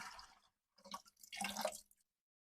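Water drains and gurgles out of household water filter lines after their pressure is released, in a few soft, splashy spurts separated by brief silences.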